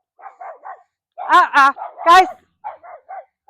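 A dog barks in short bursts, with a few louder, sharper barks in the middle, close by, while a person briefly speaks nearby.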